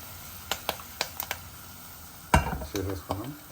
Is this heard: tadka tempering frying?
yes